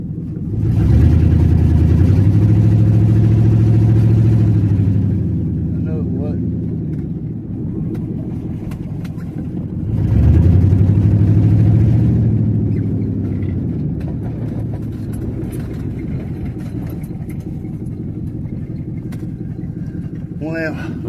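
A V8 truck engine that runs poorly is revved twice, each time a loud, rough surge that settles back to a lumpy idle, recorded close by with brief voices between the revs.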